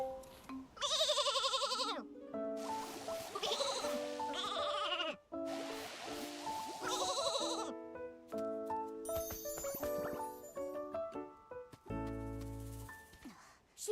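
Repeated sheep bleats from the game Infinity Nikki, a string of wavering cries over bright tonal game music and chimes, loud and close with short pauses between calls.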